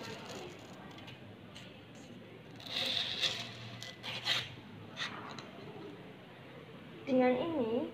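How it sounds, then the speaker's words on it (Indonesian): Abrasive rasping of sandpaper rubbed along a paper cutter blade removed from the machine, in short scraping bursts over a steady background, with a voice speaking briefly near the end. "Angkat pisau dari mesin pemotong kertas, lalu gunakan amplas."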